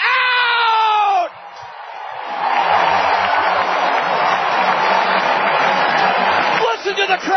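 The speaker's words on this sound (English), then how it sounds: "Listen to the crowd roar!" A minor-league baseball crowd at a Cedar Rapids Kernels home game swells into a loud, sustained roar after a runner is thrown out at home plate. A brief raised voice comes first, and the roar fades out near the end.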